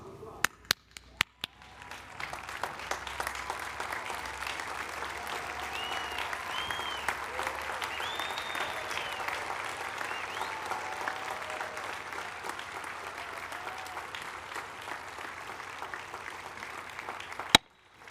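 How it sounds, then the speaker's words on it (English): A standing audience applauds at a graduation ceremony in a large hall, with broad, even clapping that holds steady for over fifteen seconds, a few sharp claps at the start, and faint voices and cheers mixed in. "everyone stand and give another round of applause"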